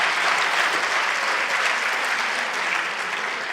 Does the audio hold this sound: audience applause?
yes